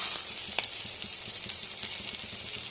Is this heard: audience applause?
no